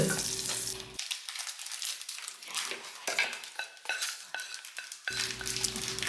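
Dried red chillies sautéed in a pan, brisk repeated scraping stirs and rattling over a light sizzle, close and fairly loud, with a low steady hum only at the start and end.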